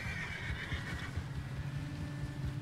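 A horse whinnies in Red Dead Redemption 2, a drawn-out neigh close by over steady hoof and ambient game noise, with no talk.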